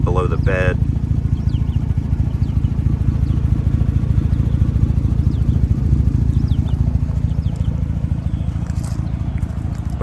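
A 2014 Chevrolet Silverado 1500 single-cab truck with an aftermarket exhaust dumping below the bed idles close by with a deep, steady, pulsing rumble, while someone talks briefly over it.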